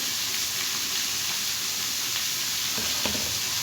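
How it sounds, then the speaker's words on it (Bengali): Beetroot and carrot sizzle in a hot pan with a steady crackling hiss, with occasional soft scrapes of stirring nearby. "এবার বসিয়ে দিলাম বিট গাজর ভাজা"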